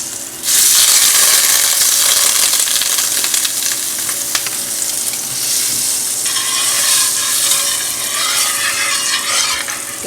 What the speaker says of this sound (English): we're just going to add our butter. Let that brown for a little bit.